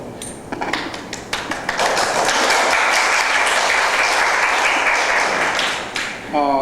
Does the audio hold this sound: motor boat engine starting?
no